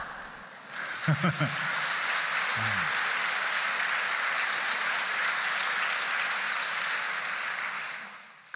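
An audience at a Buddhist dharma talk claps in a long, steady wave of applause after a brief voice at the start, the dense clapping holding evenly loud before tapering off near the end.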